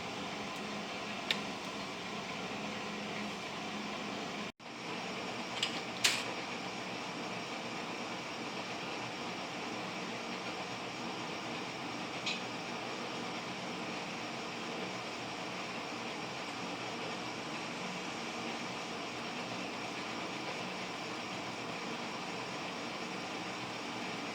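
An HO scale Rivarossi two-truck Heisler model locomotive runs at half throttle, giving a steady, even mechanical whir and hum that holds throughout with a short dropout early on and a few faint clicks.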